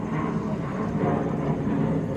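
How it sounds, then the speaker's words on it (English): A fixed-wing airplane passes overhead as a steady, broad engine rumble that stays even and fairly loud for the whole stretch, with no voices over it. "as soon as this airplane flies overhead"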